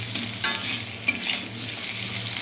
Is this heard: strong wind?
no